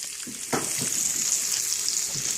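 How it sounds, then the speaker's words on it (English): Chopped onion fries in oil in a pan in a tiny home kitchen, a steady loud hissing sizzle with a few soft stirring knocks, close up and continuous. "So I'm going to add some onion. Let it fry up."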